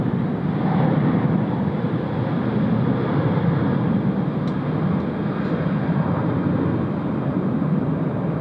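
A China Airlines airliner takes off at Tokyo Haneda airport with a loud, steady broadband jet roar that stays constant throughout, with no voices.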